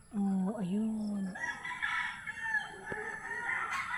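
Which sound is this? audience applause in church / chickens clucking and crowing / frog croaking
chickens clucking and crowing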